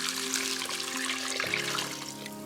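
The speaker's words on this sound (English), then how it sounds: "once your veggies are nicely softened in the pan there, we can just pop in this stock" Vegetable stock is poured into a pan of softened vegetables, making a steady splashing trickle of liquid that runs on evenly, with a faint hum underneath.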